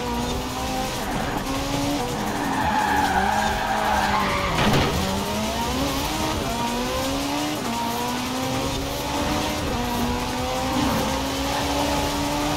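A Ferrari race car in Forza Horizon 4 skids hard with a long, loud tire squeal over a high, droning engine whose pitch rises and dips as it slides and recovers, with one sharp thump partway through.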